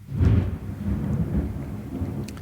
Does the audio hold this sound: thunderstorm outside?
yes